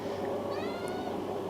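A cat meows softly in a room, a short, faint, drawn-out call over steady background noise.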